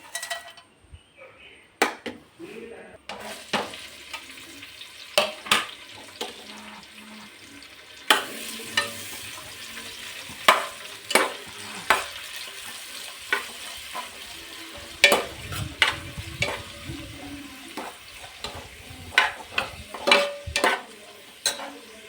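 Whole pulao spices fry in about four tablespoons of oil in a pressure cooker, a steady close sizzle broken by frequent sharp clinks and scrapes of a spoon stirring against the metal.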